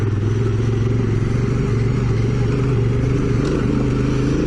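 A Yamaha T7 or Honda Africa Twin adventure motorcycle on a trail ride in the Scenic Rim, its engine thrumming steadily and loudly up close with a low rumble and faint clatter, with no speech.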